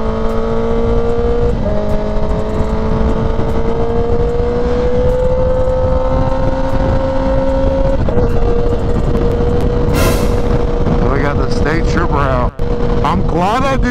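A Kawasaki Ninja ZX-10R KRT Edition at highway speed, its engine droning loud and steady with pitch shifts as gears change, under heavy wind rush and a rider's talk.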